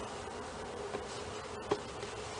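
Bees knocked down into an empty basin give off a faint, steady buzzing, broken by one soft knock near the end.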